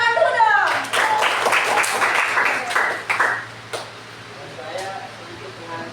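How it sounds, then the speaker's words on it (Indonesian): Hand clapping from a group in a school counseling session, a short burst of quick claps up front that fades out within a few seconds, with voices heard around it. "aku tepuk tangan dulu dong"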